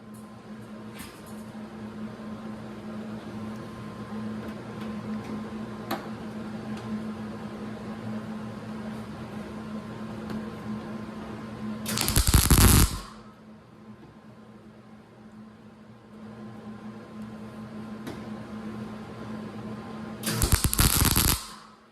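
Welding rusty metal on the bed of a 1984 Nissan 4WD truck, heard as two loud crackling bursts a few seconds long, well apart, over a steady background hum.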